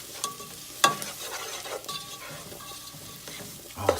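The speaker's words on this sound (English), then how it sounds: "so we'll stir all that, get it coated good." A spoon stirs aloo gobi in a pan while spices fry with a soft, steady sizzle, marked by a few sharp scraping knocks against the pan.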